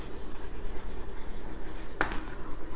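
Steady scratchy writing on a board runs throughout at close range, with one sharper tap or stroke partway through.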